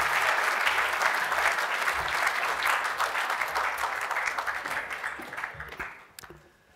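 Audience applause welcoming Campbell Newman before his talk at an evening event, a steady dense clapping from a large crowd that holds strong, then tapers off and fades near the end.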